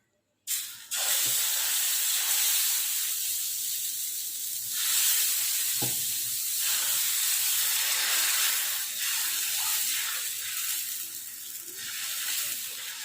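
Watermelon rind semolina dosa sizzles loudly on a hot pan, a steady close hiss of batter and oil that holds throughout with small swells and crackles.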